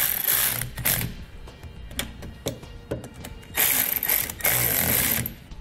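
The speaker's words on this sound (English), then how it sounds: "you can come back with a 3/8 socket and tighten it up" A ratchet with a 3/8 socket tightens locking nuts on a trailer wiring mounting bracket, giving close, loud bursts of rapid clicking separated by brief pauses.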